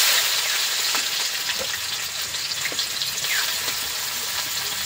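Sliced onions fry in hot oil in a pan for chicken dum biryani, giving a steady, even sizzle and crackle close by with no talk.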